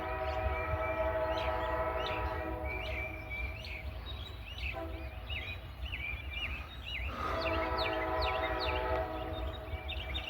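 A northbound freight train coming down a hill sounds its multi-tone horn in long sustained blasts over a steady engine rumble, with birds chirping throughout at moderate distance and no talk.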